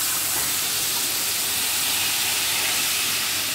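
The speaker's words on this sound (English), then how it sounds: "We are going to allow this to fry" Onion and fresh pepper frying in a pan for pepper spice chicken wings, giving a steady, loud sizzling hiss that holds evenly throughout with no talking.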